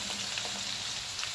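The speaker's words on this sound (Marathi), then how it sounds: "फळ्यामध्ये तेलामध्ये जिरे छान तडतडले" Cumin seeds crackle and sizzle in hot oil in a pan. The frying hiss is steady and close, with tiny pops spread throughout and no voices.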